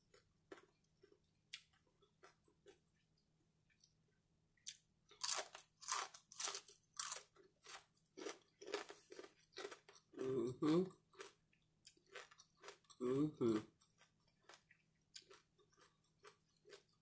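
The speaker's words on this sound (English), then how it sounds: "Nothing like some crunchy bacon." Crunchy bacon being bitten and chewed close to the microphone, a run of crisp crunches in bursts against a quiet background, with short stretches of talk between bites.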